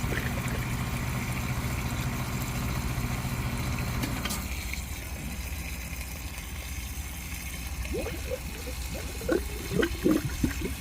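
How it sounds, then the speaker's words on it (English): Water gurgles and bubbles through airlocks in an air-conditioning drain line during maintenance, with a steady low hum underneath and a cluster of irregular bubbling pops near the end. "notice it's bubbling like crazy still"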